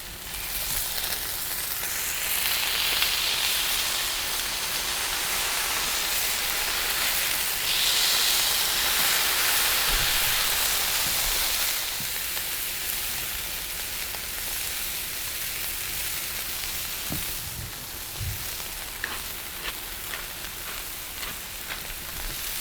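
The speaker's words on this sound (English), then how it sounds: "Then, I like to smash them into a 600-degree skillet." Meatballs seasoned with salt and pepper sizzle in clarified butter in a 600-degree cast iron skillet, a steady loud hiss with crackle running throughout, nearby, with no voices.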